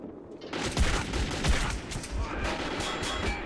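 Pistol fire in the video game Metro 2033, a quick cluster of sharp gunshots with crackling bursts amid noisy game sound, moderately loud.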